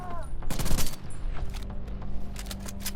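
Rapid bursts of gunfire from the shooter game Tom Clancy's The Division 2, loud and close, cracking in quick clusters over a busy background of battle noise.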